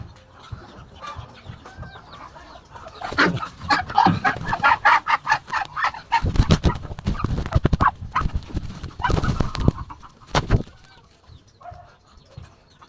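A backyard duck caught for a home recipe squawks and flaps in a burst of loud, frantic, close calls and scuffling that peaks midway, then settles to quieter background sounds.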